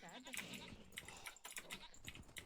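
In the video game Age of Empires, sheep bleat in short, quavering, faint calls, several in quick succession, mixed with light game sounds and a voice-like murmur.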